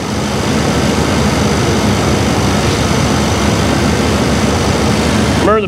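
A neglected 1989 Chevrolet Caprice engine idling with the RPM creeping up, a loud, steady, broadband engine drone close to the microphone, continuous throughout.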